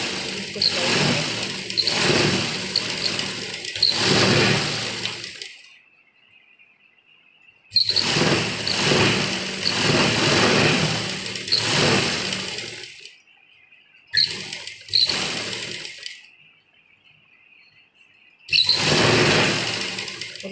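A sewing machine stitching the hem of a narrow women's palazzo trouser runs in several loud, buzzing bursts of a few seconds each, broken by near-silent pauses, close up and with no talk.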